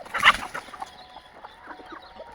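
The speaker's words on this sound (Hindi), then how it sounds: "ये आप स्क्रीन में देख सकते हैं मेरे ये प्योर देसी मुर्गे हैं" Desi chickens cluck nearby on a free-range poultry farm, one louder squawk at the start followed by softer scattered clucks and faint background chatter of the flock.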